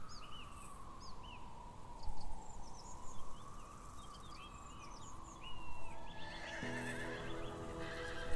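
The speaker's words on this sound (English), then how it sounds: "Wild horses gallop freely across the prairies." Wild horses on open Romanian prairie, with a long distant whinny over a steady hoof rumble of galloping, while birds chirp faintly in the background.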